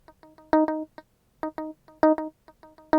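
A funky Stratocaster-style guitar lick from a software instrument with no amp, played dry as short, clean, plucked notes and choppy staccato stabs in a syncopated rhythm, with brief silences between phrases.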